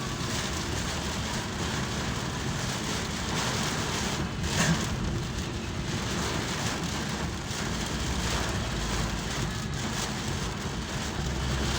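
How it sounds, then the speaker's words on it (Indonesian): Heavy rain falls on a toll road, a dense, steady wash of noise that stays loud and even throughout, with no voices. "hujan deras di jalan tol"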